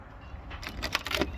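Nissan car keys shared by a GT-R and a G35 jangle close and quiet, giving a short burst of metallic rattles that lasts under a second.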